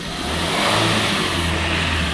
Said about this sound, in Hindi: स्टार्ट करिए गोविंद, रेस दे।